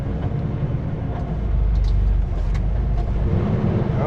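A heavily loaded vehicle labors up a Monashee Mountains road, giving a loud, continuous low engine drone with a rising, strained tone midway and faint rattles on top, with no one talking.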